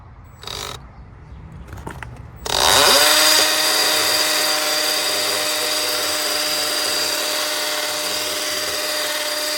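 A power drill bores holes into a wall to mount a 240 V electric car charger, a few brief taps and clicks giving way to a loud, steady high whine that holds to the end.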